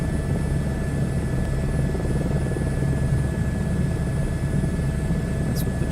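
Steady, loud aircraft engine drone in Microsoft Flight Simulator 2024, a constant propeller-like hum with no variation and no voices.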